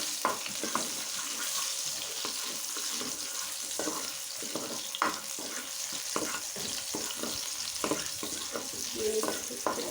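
Dried red chilies fry in oil until browned, giving a continuous loud crackling sizzle close by, dotted with small pops and the occasional clink of a stirring spoon.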